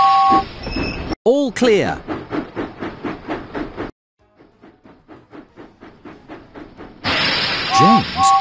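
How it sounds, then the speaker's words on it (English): Steam engine James from a Thomas & Friends video game puffing in a steady rhythmic chuff, with a whistle toot at the start and again near the end, while a voice speaks over parts of it. "James puffed proudly into the steamworks."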